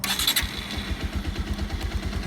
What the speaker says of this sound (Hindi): देखिए जब भी हम इस बाइक को स्टार्ट करते हैं ना,